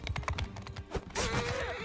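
Horse hooves clip-clopping in the medieval combat game Mount & Blade II: Bannerlord, a quick, irregular run of hoof strikes, followed by a louder surge of battle noise with no talk.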